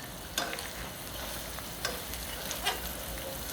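Cornstarch slurry is stirred into a brown stir-fry sauce for tofu and vegetables, with a soft, continuous sizzle broken by a few sharp utensil taps against the pan.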